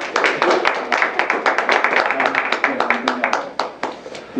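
Small audience at a talk clapping, a scattered, uneven patter of individual claps that tapers off, fairly close, with faint voices underneath.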